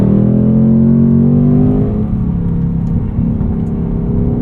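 A 2024 Ford Mustang GT coupe with a V8 and 10-speed automatic is driven on a chilly track with an apex cone. Its exhaust holds a loud, steady deep rumble with a rising drone that settles into a rough idle-like burble.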